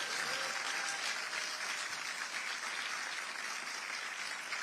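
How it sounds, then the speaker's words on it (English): Audience applause at a press event held by a governor, a steady, fairly distant wash of many hands clapping that continues evenly for several seconds. "Let's give them all a round of applause."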